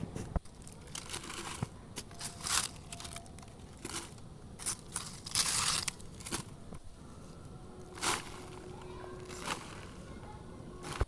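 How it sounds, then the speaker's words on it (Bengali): Soil is added by hand to a plastic pot while planting a dahlia, making irregular crunching, crinkling and rustling bursts at close range. "এরপরে আমরা মাটি দিয়ে দিচ্ছি।"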